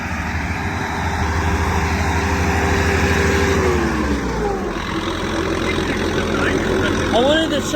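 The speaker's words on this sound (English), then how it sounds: "Instead of a regular John Deere mower, he's got a whole tractor mower." A John Deere tractor mower's engine idles with a steady, close mid-pitched drone, briefly shifting in pitch partway through, while people talk over it.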